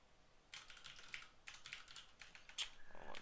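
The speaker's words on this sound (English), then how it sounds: "bad typing" Rapid bursts of typing on a computer keyboard while entering Cisco switch configuration commands, clattering keystrokes in quick uneven clusters with short pauses, close and fairly quiet, no talking.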